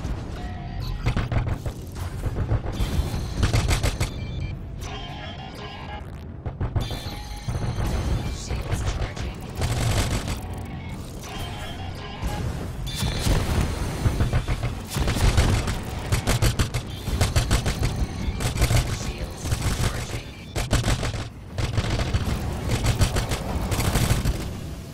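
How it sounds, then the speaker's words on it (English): Missile launches from a ship in the space game Star Citizen, a dense run of loud booming, crackling bursts and rumbling thrust that continues almost without pause for the whole stretch. "I might as well just go ahead and start venting the missiles right out the gate"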